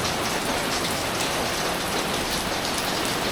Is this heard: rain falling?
yes